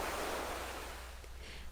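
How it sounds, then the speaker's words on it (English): Ocean surf washes in a brief steady rush of crashing waves near the shore, soft and broad without voices. "The crashing waves slowly retreat back into the ocean, gently pulling you along with each and every splash."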